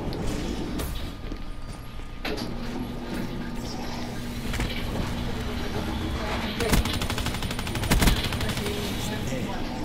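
Video game gunfire plays as a dense, continuous background of rapid shots and distant bursts, with a few sharper cracks standing out near the end, under a busy, noisy battle mix.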